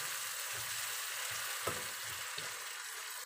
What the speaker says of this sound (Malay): Tumis bawang besar yang 1 biji tu ya. Hingga bawang tu layu sedikit ya.